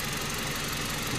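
Engine of a 2020 Hyundai Accent, stalled on the road by a bypassed aircon wire, runs at a steady idle in a short, close, even hum with no voices.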